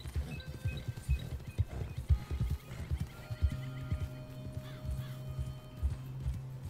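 Horse hooves clip-clop at a steady walking pace along a narrow mountain pathway in Red Dead Redemption 2, close and clear, with an occasional whinny and soft ambient game sound behind them.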